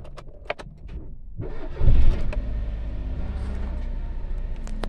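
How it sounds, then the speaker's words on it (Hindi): A car engine cranks and catches after a quiet stretch of key and dashboard clicks, then settles into a steady, close idle rumble with no one talking; the car is being checked for an engine-light reset and a P0031 fault code. "तो देखिए दोस्त अभी गाड़ी स्टार्ट हो गया"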